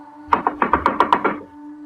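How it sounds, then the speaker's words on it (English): Rapid frantic knocking on a cabin door, about eight quick sharp raps in a tight burst, close and loud, over a faint low hum. "there was a frantic knock at the door"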